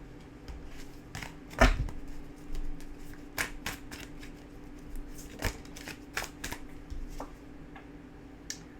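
Tarot cards being shuffled by hand, a close run of crisp riffling flicks and soft taps that keeps going steadily, with no speech.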